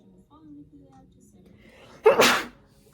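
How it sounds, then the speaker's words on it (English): A single loud, sharp sneeze bursts out after a quiet stretch, close and abrupt, with faint murmuring beforehand. "please enjoy my cute little wonderful mental breakdown sneeze"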